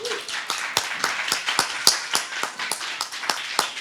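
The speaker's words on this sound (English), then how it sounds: "Thank you for the huge round of applause" A few people clap after a film screening at a reparations task force public meeting, producing distinct, close, evenly spaced claps in a quick steady rhythm, with no voices over them.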